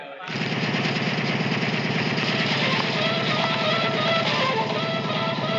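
A vehicle engine runs loudly and steadily from start to finish, a close, continuous rumble with a rapid pulsing beat and no pauses.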